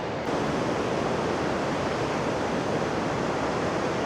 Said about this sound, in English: You can hear the roaring waterfall coming from right over here.